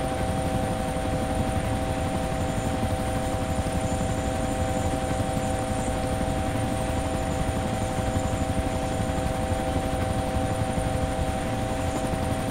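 A helicopter flies in the DayZ Epoch mod game, its rotor and turbine drone loud, steady and close, with a constant whine holding over twelve seconds.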